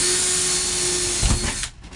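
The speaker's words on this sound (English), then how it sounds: "So we're gonna take a drill with a 1/8 inch bit." A power drill fitted with a 1/8 inch bit bores into a metal headliner support, a loud steady whine close by that bites briefly and then winds down.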